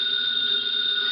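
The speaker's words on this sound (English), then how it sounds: "Answer the phone." A telephone bell ringing loudly and continuously in an old radio drama, a steady, bright electric ring that lasts the whole moment with no voices over it.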